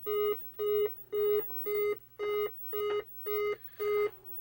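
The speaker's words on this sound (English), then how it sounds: "We're getting 8 beeps in the self-test." Eight identical electronic beeps from a Centipede arcade circuit board self-test in a steady, evenly spaced rhythm, each about a third of a second long, clear and close with no talking.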